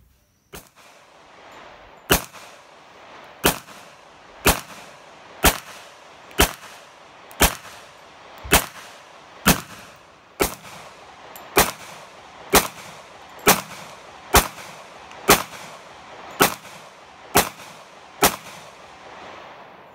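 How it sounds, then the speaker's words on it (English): A Sig Sauer 1911 pistol fires 230-grain reloaded rounds, about seventeen sharp, loud shots at a steady pace of roughly one every second, each with a short ringing tail, and no talking. "We're going to be shooting some reloads. 230 grain."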